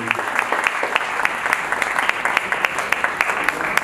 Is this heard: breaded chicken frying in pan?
no